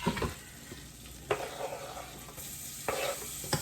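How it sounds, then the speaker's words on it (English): Garlic and Italian seasoning stirred in melted butter, a quiet sizzle under a few clattering spoon scrapes and taps, with no one talking. "then we'll add in our garlic. Italian seasoning, and then stir it for about 30 seconds."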